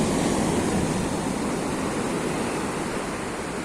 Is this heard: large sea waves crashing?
yes